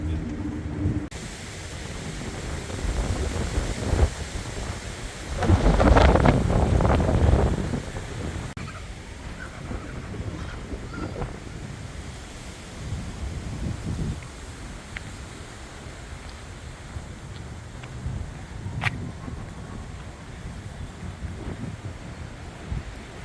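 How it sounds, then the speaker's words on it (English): Strong wind buffets the microphone with rumbling gusts, loudest in a surge near the middle, while a person talks intermittently on a walk near Albert Park in Auckland, New Zealand. "Getting really windy up here."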